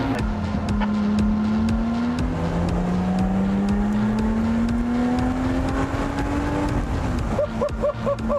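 Lotus Exige S sports car engine droning at a steady mid pitch that slowly rises and then drops, with another revving engine layered underneath, loud and continuous throughout.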